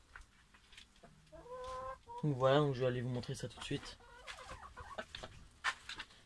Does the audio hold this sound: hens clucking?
yes